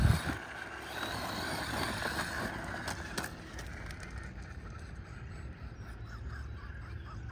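A Losi Razor Ray RC boat running fast across water, a continuous buzzing motor whine with water rush, steady and fairly loud from start to finish.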